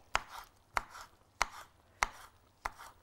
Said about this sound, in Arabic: هقطع كمان فلفل احمر حراق